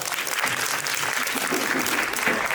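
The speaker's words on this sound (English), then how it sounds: "Round of applause, please." Sustained audience applause fills an evening music-club tribute concert, a dense steady patter of many hands, moderately loud and close, with no talking over it.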